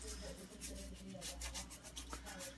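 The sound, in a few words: scrubbing a boiled deer skull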